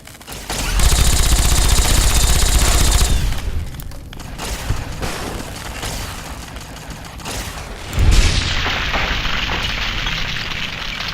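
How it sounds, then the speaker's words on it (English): Loud rumbling explosions and crackling blasts in the game Fallout: New Vegas, one long roaring burst followed by debris-like crackle and a second sharp boom that fades into hissing. "Love explosions."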